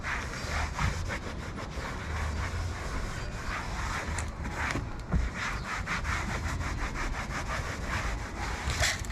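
A cloth wipes and cleans the interior plastic of a Fiat 124 Spyder, making a run of quick, rhythmic rubbing strokes, close and fairly loud, with brief gaps, and no one speaking.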